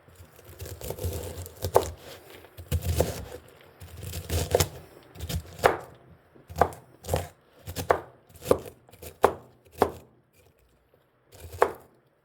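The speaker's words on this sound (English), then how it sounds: "each quarter, just gonna slice it up" Knife chopping through cabbage on a board, slower crunchy cuts at first, then a run of crisp, evenly spaced chops close by, with no talking.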